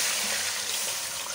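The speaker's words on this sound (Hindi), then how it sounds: "अब ये पानी डाल दें" Water pours into a pot of rice masala being cooked with green chillies, a loud, close, continuous gushing splash that lasts the whole moment.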